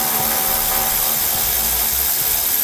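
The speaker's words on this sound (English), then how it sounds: "Now we'll take one of our nuts off that we have a compressor mounted with." A power tool whirs loud and close, steady and broadband, as a nut is removed from the mount of an air compressor on a 2014 Ford F pickup, with no talking.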